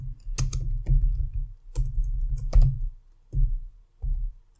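Typing a formula on a computer keyboard, with clusters of rapid key clicks in several separate bursts, close and fairly loud with short pauses between them and no talking.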